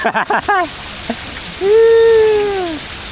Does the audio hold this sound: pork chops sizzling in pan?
no